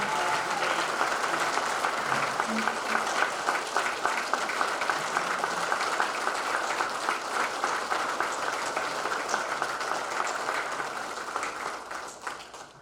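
Sustained audience applause at a department convention, a steady dense wash of many hands clapping for over ten seconds, fading slightly at the end with no talk over it.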